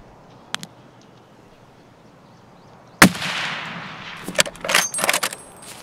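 A sharp, loud gunshot bursts out in Escape from Tarkov, followed by rattling clatter and a few further cracks. A single faint click comes before it in otherwise quiet surroundings.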